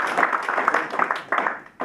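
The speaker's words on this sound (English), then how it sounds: "How about a nice round of applause for this group?" Applause from a crowd at a veterans memorial event, a fairly steady patter of clapping through the clip with a brief dip near the end before it rises again.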